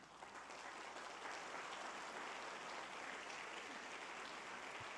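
A church congregation claps together in a sustained, even round of applause, a dense wash of many hands at moderate distance, quite faint overall and without talking.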